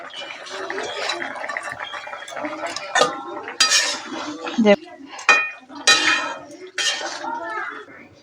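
A spoon stirs fish curry with cauliflower and potato in a pot, making close, intermittent metallic scrapes and clinks in uneven bursts, with short quiet gaps between strokes.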